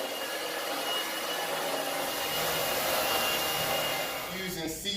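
A vacuum cleaner runs steadily at close range, pre-vacuuming a commercial carpet. Its whine holds constant throughout and fades slightly at the end, with no voices.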